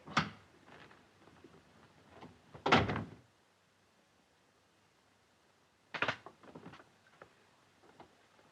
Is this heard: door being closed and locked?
yes